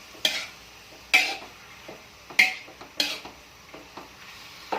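Meat for igado cooking in a pan, with a faint sizzle under a handful of sharp, close utensil scrapes and knocks spaced about a second apart, no talking.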